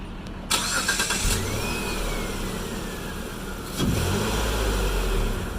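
A car engine that has just started runs close by, with a loud burst of revving at the start and another surge near the end, settling into a steady idle in between.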